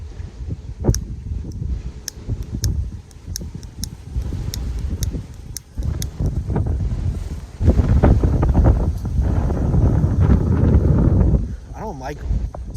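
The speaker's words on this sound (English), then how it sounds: "It is so fucking windy, I can't stand it." Strong gusts buffet the microphone outdoors, producing a loud, uneven low roar that swells and drops over several seconds, with someone talking over the rumbling wind.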